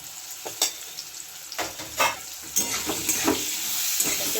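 Spiced raw mango being stirred in a frying pan with sugar, a close sizzle broken by several scraping spoon strokes that grow into a steady frying hiss.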